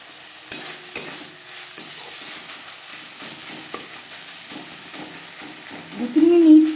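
Spices fry with onion and garlic in a pan for a fish curry, with quiet scattered stirring knocks and scrapes before a loud, close sizzle bursts up near the end.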